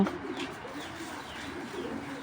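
Pigeons cooing at a pigeon seller's lot, low soft coos repeating steadily and fairly close, with faint higher chirps above.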